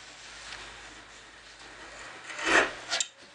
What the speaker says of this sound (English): I'm just going to clean out this hole where the bushings go into, and I'm just going to take a piece of steel wool